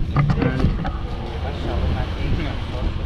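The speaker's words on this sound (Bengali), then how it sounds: "Boat journey is now start." A tour boat sets off on a half-day trip around Thai islands, its low steady engine rumble and water noise carrying loudly alongside indistinct voices of passengers.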